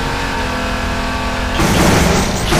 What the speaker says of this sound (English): Handbrake turn.